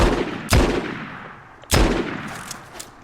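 Two loud, sharp gunshot blasts in the Fortnite video game, about a second apart, each with a short ringing tail, over faint game background noise and no talk.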